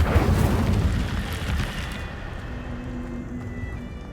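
Incendio fire spell cast in Hogwarts Legacy: a loud whooshing burst of flame that roars for about two seconds, then fades into a quieter crackling tail.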